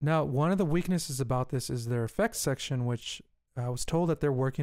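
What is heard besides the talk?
No distinct noise like a dog, phone or traffic.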